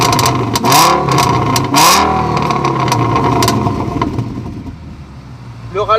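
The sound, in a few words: V10 engine revving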